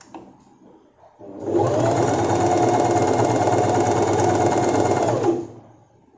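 A sewing machine runs a steady stitching burst on a saree petticoat, starting after about a second of quiet and holding an even, continuous whir for roughly four seconds before stopping.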